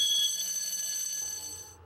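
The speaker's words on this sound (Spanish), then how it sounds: "En un incendio podrá escuchar la alarma del detector de humo." A smoke detector alarm sounding during a fire, heard as steady high-pitched electronic tones that stay loud and close, then cut out near the end of the short stretch.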